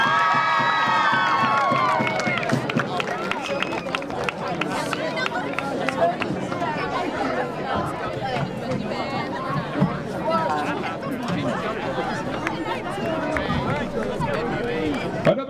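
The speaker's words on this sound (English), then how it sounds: "Another round of applause for the senior marching Golden Eagle band members, the class of 2024." Stadium crowd at a George Washington High School vs. Frederick High School varsity football game applauding and cheering for senior marching band members, a dense sustained wash of clapping with shouts and chatter throughout.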